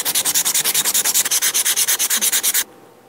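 Rapid, steady back-and-forth hand sanding of wood on a whirligig, about two dozen strokes, loud and close, stopping abruptly near the end.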